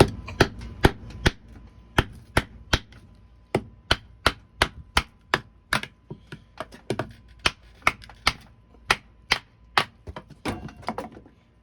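An Essie bushcraft knife driven through wood by batoning: a long series of sharp, close, dry knocks, spaced irregularly about half a second apart, loud and alone over quiet background.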